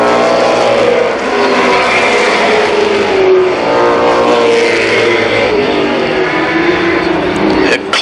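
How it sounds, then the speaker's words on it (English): Race cars roar around Columbus Motor Speedway, their engines rising and falling in a continuous loud drone with passing revs, while an announcer talks over the noise. "Car showing a lot of strength going around the Speedway."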